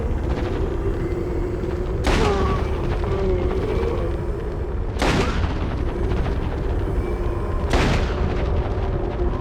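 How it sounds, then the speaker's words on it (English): Three heavy, booming Magnum Revolver gunshots in the video game Resident Evil Outbreak, spaced about three seconds apart, each loud and echoing over a constant low game ambience. "now let's see escape maneuvers with the Magnum Revolver"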